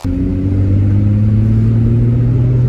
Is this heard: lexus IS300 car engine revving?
yes